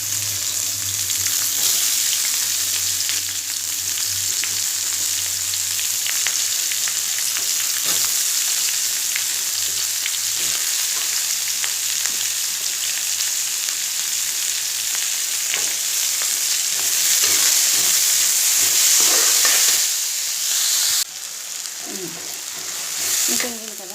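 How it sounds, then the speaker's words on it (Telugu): Onions and tomatoes fry loudly in a pan with a continuous close sizzle, broken by scraping and stirring sounds throughout, and a brief muffled voice comes in near the end. "ఇలా పోయి వేగిపోయి టమాటా వేస్తున్నాను. అంటే ఇగో కలుపుకొని ఉల్లిపాయలు టమాటాలు"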